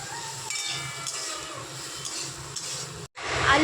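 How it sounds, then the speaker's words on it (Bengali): Diced potatoes with salt and turmeric are stir-fried in a pan for a Bengali ridge gourd and potato dish, sizzling softly with scraping stirs up close, then a short gap before a louder hiss. "এবারে আলুগুলোকে একটু ভালো করে খড়িয়ে নেব।"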